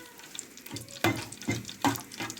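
Sesame seeds frying in hot ghee for soft Egyptian kahk cookies, giving a light crackling sizzle punctuated by three sharper stirring scrapes, close and fairly quiet, with no talking.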